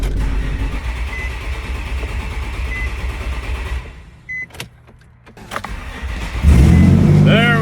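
A neglected 2000s-era Nissan 350Z sports car cranks and then fires up, its engine catching loudly near the end after a quieter stretch of clicks and mechanical noise.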